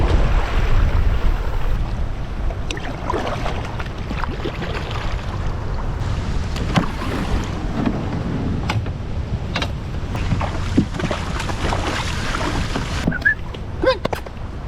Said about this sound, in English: The waves are just really pretty gnarly today.